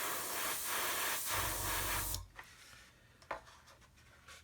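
An aerosol spray can hisses paint onto a model aircraft engine in a steady burst of about two seconds, then stops, followed by faint handling noises and a few light taps nearby.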